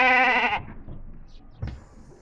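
A sheep lets out one loud, close bleat lasting about half a second, followed by quiet shuffling and a soft thud in a calm setting.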